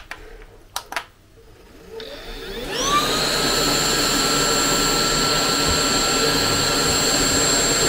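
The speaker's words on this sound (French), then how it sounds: "Alors je vais aspirer" Heavy vacuum cleaner set to eco mode, starting up after a few handling knocks, then settling into a steady, loud whine and rushing airflow close by, with no talk over it.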